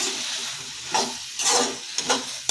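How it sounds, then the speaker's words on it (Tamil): Turkey berries sizzle and fry in a pan while being stirred, with a steady hiss broken by several scraping stirs and soft clatters. "நல்லா வணக்கி விட்டுக்கலாம்."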